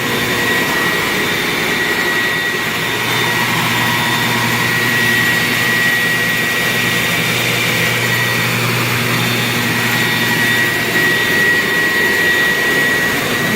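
A Viper model jet turbine engine runs on its test setup, giving a loud, continuous roaring whine with a steady high tone, unbroken and even for the whole stretch.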